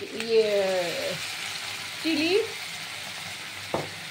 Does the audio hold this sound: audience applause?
no